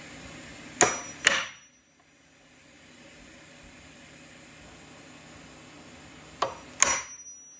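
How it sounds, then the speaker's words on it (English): A hammer strikes a center punch on a metal ball joint plate from a 1978 Ford Mustang control arm, two sharp metallic taps, a pause, then two more, loud and close. "So first we're going to use a center punch and mark the center."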